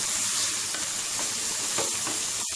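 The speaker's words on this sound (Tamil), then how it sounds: "வெங்காயத்தை நல்லா வந்து வதக்கிடுங்க" Onions sautéing in ghee for ghee rice, a steady close sizzle with soft stirring scrapes in the pan, no voices.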